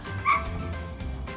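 A dog gives a short, close bark with a slight whimpering yip, heard once against a soft outdoor background.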